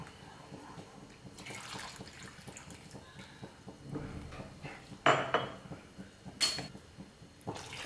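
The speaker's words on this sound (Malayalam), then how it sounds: "ഇതെല്ലാം കൂടി ഒരുമിച്ച് തന്നെ ഒഴിച്ചു കൊടുക്കാം. ഒഴിച്ചു കൊടുക്കുമ്പോൾ ഇളക്കി കൊടുക്കാം കേട്ടോ." A wheat mixture for Tirunelveli halwa is poured into a hot pan and stirred, giving a close wash of liquid splashing with scraping and several sharp metallic knocks of a spoon against the pan, no voices.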